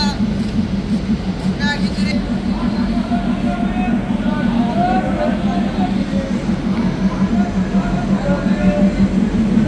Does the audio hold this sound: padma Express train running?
yes